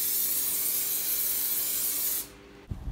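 A spray can hisses steadily as rubberized paint is applied in a continuous pass to mountain bike rims, loud and close for about two seconds, then cuts off before a brief clunk.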